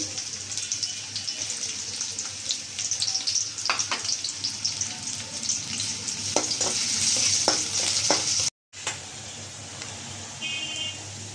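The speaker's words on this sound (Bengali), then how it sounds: "তেল দিয়ে দিলাম পেঁয়াজ কুচি" Chopped onions fry in hot oil in a pan, giving a steady close sizzle with scattered clacks of stirring; a brief break interrupts the sizzle before it carries on.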